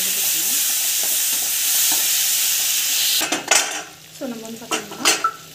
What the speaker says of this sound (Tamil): ஸோ டொமேட்டோ வந்து ஆட் பண்ணிடலாம். நல்லா வதக்கிக்கணும்.